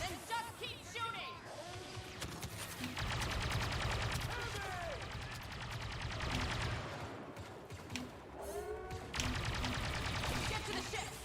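Blaster-style gunfire from a Star Wars video game battle in Theed on Naboo: sustained, rapid volleys that come in waves over a rumbling battle bed, with voices shouting through it.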